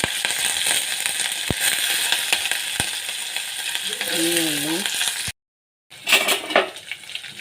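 Cumin, curry leaves, green chillies, chana dal and urad dal fry in hot oil with a loud, steady sizzle and occasional metal utensil clinks, then a brief silence and a louder burst of spattering.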